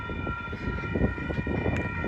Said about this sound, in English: We've got a westbound Amtrak.